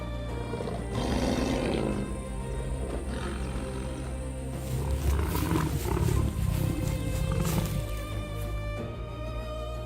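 A lion roars repeatedly on the savannah, with deep, rumbling calls rising in two loud bouts over a steady background.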